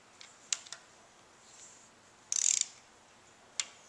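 A torque wrench tightens cap bolts on the engine head of a 1995 Suzuki Sidekick: isolated sharp metallic clicks, plus one short buzzy ratcheting burst in the middle, close and clear over a quiet background.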